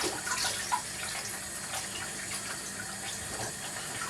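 Sliced potatoes being rinsed under a running kitchen tap, a steady continuous splash of water with small bumps of handling, close and moderately loud, with no talking.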